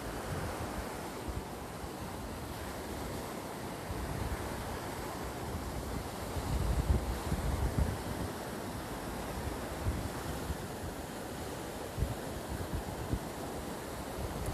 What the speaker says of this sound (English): Hopefully you guys can hear me with the wind.